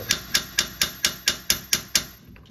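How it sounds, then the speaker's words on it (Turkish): Nine sharp metallic taps from a small hammer striking a tie rod end on a Volkswagen Polo 6N, evenly spaced about a quarter second apart, close and ringing briefly after each hit. "Şimdi rot başını yerinden alacağız şöyle ufak bir çekiçle."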